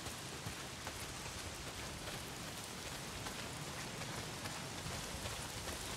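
Steady, dense hiss of heavy rain pouring down in the video game Days Gone, a continuous wash with no let-up, no voices, alone in the scene.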